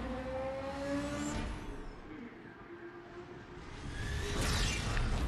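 Racing game engine audio from Need for Speed on an iPad, featuring a BMW M3 GT: a steady car engine drone with whooshing pass-by swells, fading mid-clip and rising again loudly near the end.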